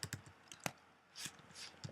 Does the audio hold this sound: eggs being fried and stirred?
no